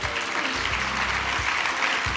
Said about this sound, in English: Let's give the President and welcome him with a big round hand of applause.